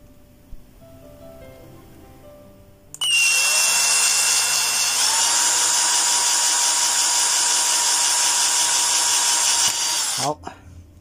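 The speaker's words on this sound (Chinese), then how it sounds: "下面我们就用电钻给它打一个孔" After a quiet start, an electric drill bores a hole into the circuit board of a VC890C multimeter under repair. Its loud, steady high whine runs about seven seconds and then cuts off abruptly.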